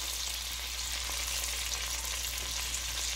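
Onion and minced garlic sizzle steadily in a pot, a continuous close hiss of frying that stays even throughout with no talking.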